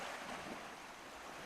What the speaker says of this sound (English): water creeps over Arctic shores like an overflowing bathtub